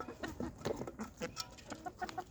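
Village chickens being raised for eggs cluck and chirp in short, repeated calls, several birds close by with a busy, irregular rhythm and no talking.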